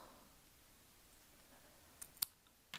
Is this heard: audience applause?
no